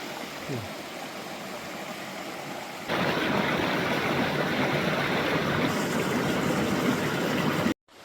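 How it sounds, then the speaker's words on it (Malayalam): Tejaswini river flowing through a Karnataka forest, a steady broadband rush of water that grows louder and denser partway through and holds constant until it cuts off near the end. "കർണാടകത്തിലൊരു പുഴ കേട്ടോ"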